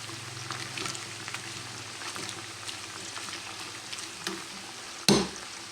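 Bear fat renders in a pot with a soft, quiet sizzle and occasional stirring scrapes, ending with one sharp clunk of the utensil against the pot.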